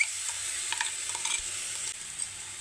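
Onion and crushed chili powder frying in a pan for a Kerala-style curry served with appam: a soft, steady sizzle with scattered stirring scrapes, fairly quiet, no voices.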